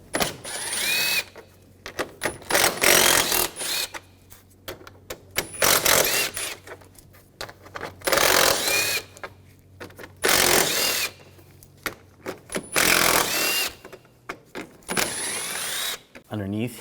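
A ratchet and 10mm socket remove bolts on a 2013-2019 Ford Escape 2.0L during an AC condenser job, with repeated bursts of rapid clicking separated by pauses, close and loud.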